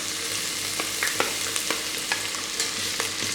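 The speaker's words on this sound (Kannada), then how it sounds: "ಈರುಳ್ಳಿ ಸ್ವಲ್ಪ ಮೆತ್ತಗಾಗೋ ತನಕ ಫ್ರೈ ಮಾಡ್ಕೊಳ್ಳಿ." Sliced onions frying in an electric cooker for veg pulav, a steady soft sizzle with occasional stirring scrapes and small crackling pops, close by and fairly quiet, with no talking.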